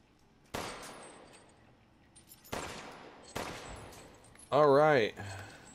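Gunfire in the horror video game Resident Evil Village: three sharp shots spaced about a second apart, each with a decaying echo, followed by a brief warbling electronic tone.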